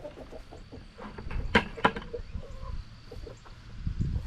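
Chickens cluck softly in scattered bursts close by, with a couple of sharp louder clucks standing out over a low barnyard murmur.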